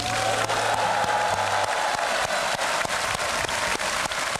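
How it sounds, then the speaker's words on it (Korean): A large crowd at a military enlistment ceremony claps loudly and continuously, with a thick wash of applause, scattered shouts and sharp individual claps standing out close by. "큰 함성과 박수를 한번 쳐주시면"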